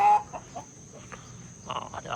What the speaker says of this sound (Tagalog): Nagingay na yung mga manok ko.